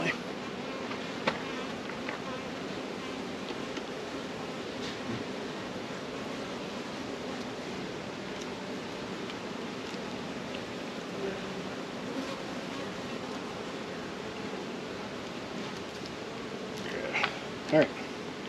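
Honey bees at an open beehive, a steady soft buzzing hum that carries evenly throughout, close and continuous, with faint handling noises near the end.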